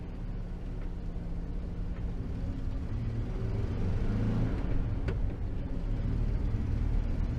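A VW T2 camper van's engine runs while driving, a continuous moderate rumble with road noise and a slight rise in level midway, no talking over it.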